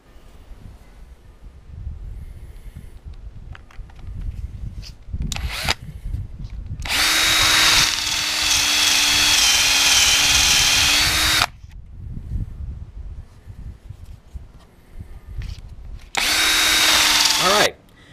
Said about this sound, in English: commonly either within your power drill or drill press, and it's going to turn and cut down that wood blank